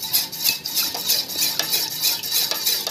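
A utensil stirs water and grated cheese in a pan for a mango corn cream soup, giving a steady series of close, bright scraping clinks with no voices.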